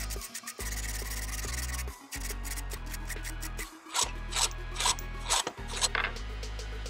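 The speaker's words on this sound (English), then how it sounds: "just use a file and file those off" Metal file scraping burrs off a Craftsman 100 table saw part by hand: repeated rasping strokes in an uneven rhythm, close and fairly quiet, with a steady low hum underneath.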